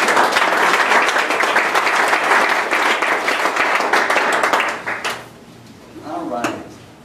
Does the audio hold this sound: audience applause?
yes